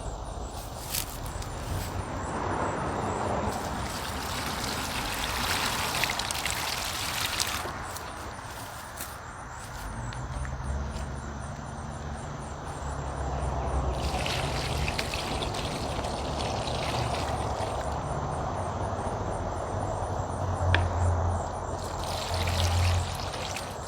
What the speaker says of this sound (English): So I'm just gonna water some of this, and then I'm gonna get another bucket and we're gonna water some more.